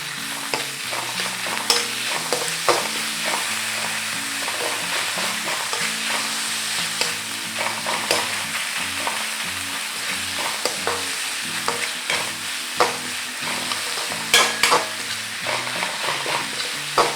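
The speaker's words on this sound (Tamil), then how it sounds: "நம்ம இஞ்சி பூண்டு விழுது ஆட் பண்ணுறோம்" Ginger garlic paste fries in an oil-filled pan for a chickpea rice dish, crackling and sizzling steadily up close, with frequent small pops and scraping stirs throughout and no talking.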